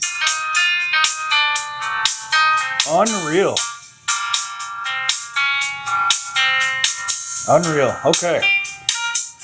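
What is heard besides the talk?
audio playing through Pioneer TS-120TWM dome tweeters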